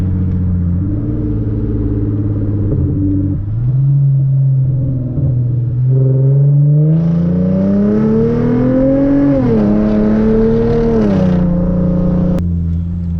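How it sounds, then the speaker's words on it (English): A Hyundai Genesis Coupe with aftermarket downpipes, test pipes, catback exhaust and intake pulls hard in first gear. The loud, close exhaust drones, then climbs steadily in pitch to a raspy high-rev peak before dropping back, with no talking. "little first gear pull"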